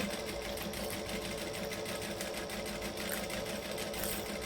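A sewing machine stitches the lid of a camera bag at a moderate, unhurried pace, producing a continuous even mechanical hum and rhythmic needle patter close by.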